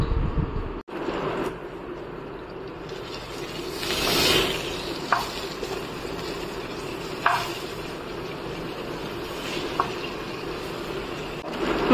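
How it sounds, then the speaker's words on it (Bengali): Pieces of rui fish fry in hot oil in a pan, a steady soft sizzle with occasional light clicks and stirring sounds, close and quiet. "মাছগুলো হালকা ভাজা হয়ে গিয়েছে"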